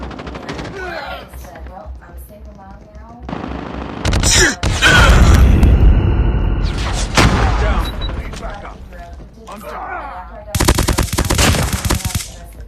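Rapid bursts of automatic gunfire and single shots in a shooter video game, loud and close, come in dense rattling volleys with brief pauses, and a voice speaks between them.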